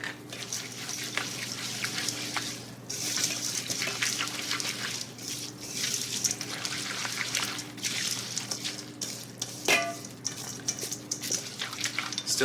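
Oats being stirred into a homemade suet bird food mix of melted fat, giving soft scraping and mushy stirring sounds against a steady low hum, with a few sharper knocks, close and moderately loud throughout.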